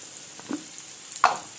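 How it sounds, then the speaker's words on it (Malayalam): Chicken frying on one burner and onions sautéing on another: a faint, steady stovetop sizzle broken by a few light utensil knocks, with no speech. "ആ അടുപ്പത്ത് ചിക്കൻ വറുക്കാൻ വെച്ചേക്കണോ ഈ അടുപ്പത്ത് സവോള ഇട്ട് വെച്ചേക്കുന്നു"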